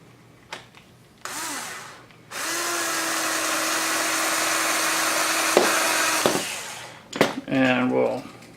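A power drill with a 1/16-inch bit bores a pilot hole into a box quad frame, whining steadily up close for several seconds after a brief start, with a voice speaking briefly near the end.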